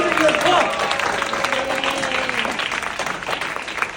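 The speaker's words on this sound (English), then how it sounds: "Let's give a big round of applause." Applause rises from a crowd at a comedy sports match between teachers and students, fairly loud and continuous, with voices and a few cheers mixed into the clapping.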